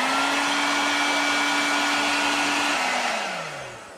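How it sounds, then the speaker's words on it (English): A hairdryer heats a wind restrictor on a C7 Corvette convertible. It roars with a constant, loud airy hiss and a steady hum, then starts winding down in pitch and level near the end. "we're going to heat this up with a hairdryer"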